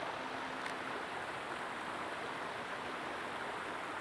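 Stream water flowing outdoors in a natural setting, a steady broadband rush of moving water, close and constant throughout with no voices.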